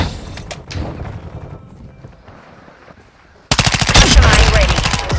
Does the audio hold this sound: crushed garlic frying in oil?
no